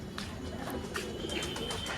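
Sirazi pigeons coo softly over a constant background murmur, with several short chirps and coos overlapping near and a little farther off.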